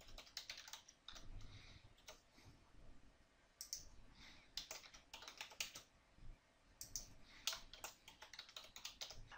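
Typing on a computer keyboard, with bursts of close, crisp key clicks in irregular clusters and short pauses between runs.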